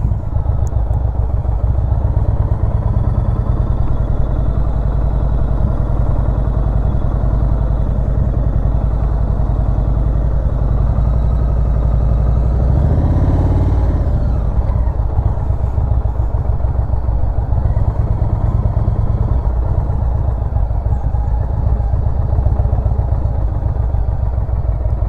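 Motorcycle engine idling and rumbling steadily at low speed during slow practice turns, a close, continuous mechanical drone with a brief swell midway.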